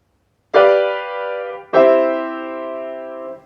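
Two sustained piano chords struck in succession, a dominant seventh resolving to the tonic in a perfect cadence, each ringing full and clear then decaying, played alone.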